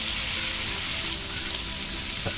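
Steak fries in a pan with a loud, steady, close sizzle that crackles without pause throughout, and no talking over it.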